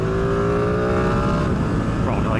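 A motorcycle engine, either a Ducati Streetfighter V2 or a Yamaha MT-10, runs at about half throttle, a loud steady drone with harmonic tones that shift slightly late in the clip, with nobody talking.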